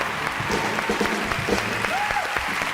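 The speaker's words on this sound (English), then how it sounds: "Let's give a round of applause to the 6 dedicated eco and humanitarian organizations." An audience at an awards ceremony for eco and humanitarian organizations claps steadily, a dense even wash of applause with a brief voice heard near the end.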